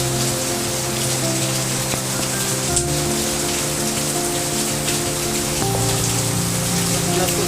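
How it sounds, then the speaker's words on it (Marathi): Heavy rain pours steadily onto surfaces on a lazy morning, a dense, unbroken hiss that carries through the whole stretch with no voices. "खूप पाऊस पडतो यार"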